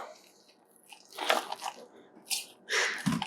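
A spoon scrapes around a bowl of whipped lavender vanilla sugar scrub in several close, gritty, squishy bursts, quiet at first and then louder toward the end.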